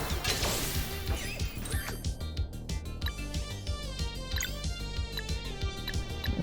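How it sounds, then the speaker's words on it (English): Repeated blunt smashing and thwacking hits from battle attacks in the video game Sea of Stars land in a quick rhythm over layered game music and effects. "Damn, that's a lot of smashing."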